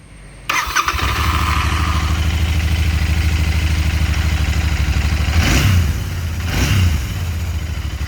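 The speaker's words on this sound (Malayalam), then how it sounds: "വണ്ടിയുടെ എക്സോസിനോട്ട് കേൾക്കുന്നതാണെന്ന് പറഞ്ഞാൽ അതും ഞാനിപ്പോൾ കേൾപ്പിച്ചു തരാം" A Royal Enfield Continental GT 650 twin fires up after a short silence and settles into a steady, deep, bassy idle close by, with two brief throttle blips near the end.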